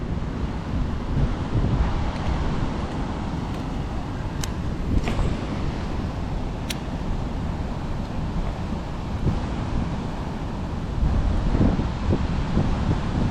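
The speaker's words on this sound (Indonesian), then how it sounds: "Anginnya udah mulai kenceng ini guys." Strong wind at a riverbank buffets the microphone in a continuous low rumble, with a few faint clicks and gusts swelling toward the end, and no talking.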